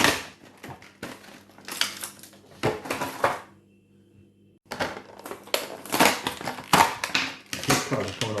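Vintage carded Mattel Hook action figures are cracked open one after another, giving bursts of crinkling plastic blister and cardboard tearing with a short pause in the middle, close and fairly loud.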